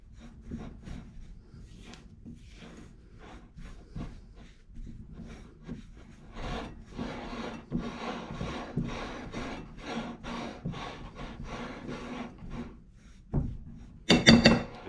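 Bread dough for a sandwich loaf is mixed with a spatula, producing close repeated scraping, rubbing and thudding strokes in an uneven rhythm that grows busier, ending in a louder clatter, with no talk.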